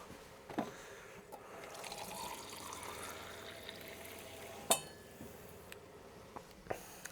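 Water pours into double cream for a camp oven pasta bake in a kitchen with running water, a soft trickle punctuated by a few sharp clinks of utensils or cookware.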